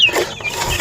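Chickens on a small farm in Darjeeling cluck briefly and close by while being fed, with no voices heard.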